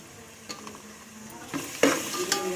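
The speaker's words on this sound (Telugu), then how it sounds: "ఆనియన్స్కి పట్టేలాగా మిక్స్ చేసుకోవాలి" Onions being stirred together with ginger-garlic paste in a pan for a chicken dish, giving soft scraping and stirring with a light sizzle and a few brief clinks of the utensil against the pan, close up and no talking.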